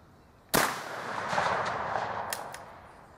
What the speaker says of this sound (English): So I'm just going to shoot out in the field and see what happens.